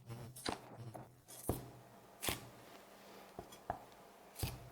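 A knife slices a seeded half red pepper into strips on a cutting board, giving a handful of quiet, sharp, separate cuts with gaps between them.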